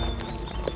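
Horses' hooves clip-clop in a short burst. A few close, distinct hoof strikes land over a low background.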